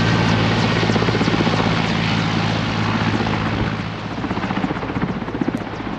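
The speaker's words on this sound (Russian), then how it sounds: "Сейчас вертолет будет взлетать прямо над нашим лагерем." A helicopter takes off directly above a tent camp on an expedition in the Altai region of East Kazakhstan, its rotor beating loudly and steadily at close range with no voices.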